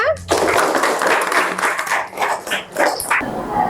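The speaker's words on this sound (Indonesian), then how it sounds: "Ya, tepuk tangan untuk kita semua." Clapping from a class during a chemistry lesson, a burst of mixed claps with a teacher's voice talking over and around it, uneven and fading in places.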